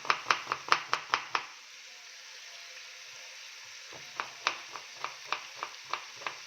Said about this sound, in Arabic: هقطع بصلتين حلوين كده كبار، ومعاهم اربع فصوص من الثوم